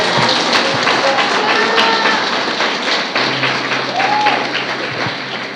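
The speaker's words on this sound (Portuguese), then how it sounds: "Você pode dar um aplauso a Jesus por isso?" A church congregation applauds during a Portuguese-language service, loud sustained clapping from many hands filling the room, with a low hum and a few thumps underneath.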